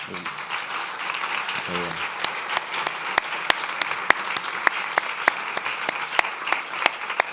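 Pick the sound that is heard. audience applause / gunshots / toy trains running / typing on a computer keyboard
audience applause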